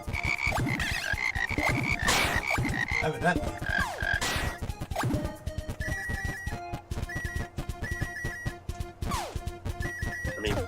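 Frogs croak in the video game Frogun, a dense, loud chorus of rhythmic repeated calls filling the whole stretch, with a brief spoken word near the start.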